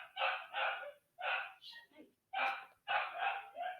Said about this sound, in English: oh, my dog is barking at me